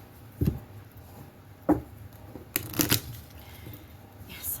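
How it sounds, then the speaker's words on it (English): A deck of tarot cards being shuffled, a few soft riffles and card slaps spaced unevenly, close and quiet with faint background hiss. "shuffle weird. Some of these decks are kind of big."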